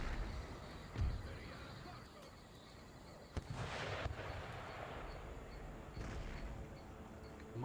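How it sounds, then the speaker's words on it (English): Mortars firing in the video game Empire Total War, a few distant thuds and crackling bursts spaced several seconds apart over a faint battlefield background, with a voice talking. "So hear those mortars firing."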